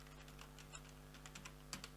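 Computer keyboard typing at a quiet desk, a short run of light, irregular key clicks, faint and close, over a steady electrical hum.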